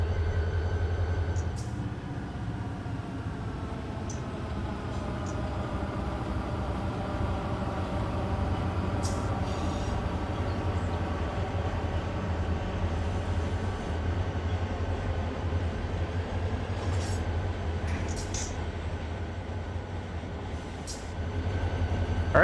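A BNSF locomotive rolls light through a rail yard in Run8 Train Simulator, Alabama region, a steady low engine drone and rumble throughout with occasional faint clicks and clanks, no talk over it.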